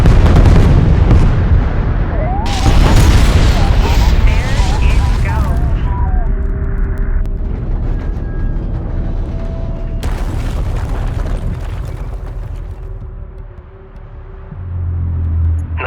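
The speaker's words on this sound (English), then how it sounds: "Pull back to a safe distance and initiate detonation." Demolition charges detonate in Homeworld: Deserts of Kharak, several heavy booms that roll into long rumbling decay, loud and close, with game voices over parts of it.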